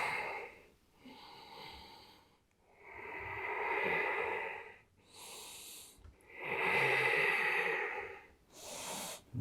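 Slow, deep breaths drawn in and let out during a yoga stretch, each long airy inhale and exhale close and alone, rising and falling in three or four broad waves with short pauses between.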